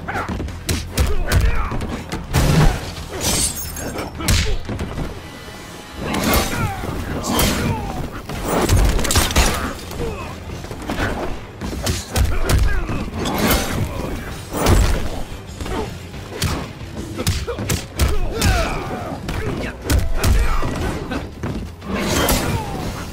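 Fighting in Mortal Kombat X with Kenshi in a tower tournament: a dense, near-continuous stream of loud punches, thuds, slams and crashing impacts in rapid irregular bursts throughout, with vocal grunts and shouts mixed among the blows.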